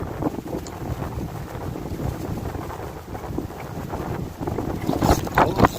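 Steady wind roars across the microphone on a moored boat while sea fishing, a continuous rushing noise with gusts swelling near the end and no talking.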